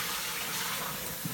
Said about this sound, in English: And then I'm going to dump the water.